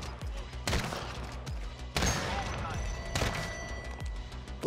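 Booming sniper rifle shots in a multiplayer shooter game, three or four heavy blasts spaced about a second apart over a busy game background, with voices talking.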